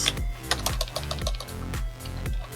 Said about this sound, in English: typing all kinds of stuff